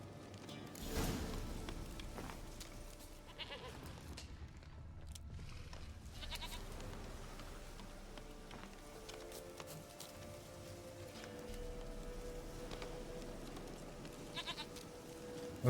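A goat in The Witcher 3: Wild Hunt, with faint, intermittent bleats over quiet game ambience and occasional soft thuds.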